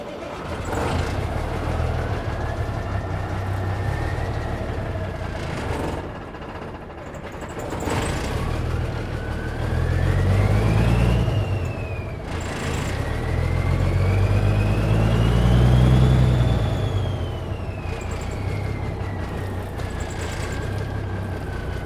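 A cabover semi-truck's diesel engine cranks and catches, then runs with a steady low rumble that swells and settles, loud and close, with rising whine tones on top.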